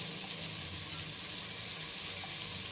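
Tomatoes fry in a pan for mutton biryani, giving a steady, moderate sizzle and crackle throughout with no voices.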